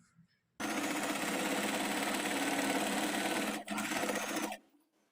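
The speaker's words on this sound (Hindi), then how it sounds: "तब इसकी ऐसे पूरे की सिलाई लगा लेंगे।" A sewing machine stitches layered crop top fabric (main fabric with satin and cotton linings) in a loud, fast continuous run, pausing briefly once before carrying on, then stopping.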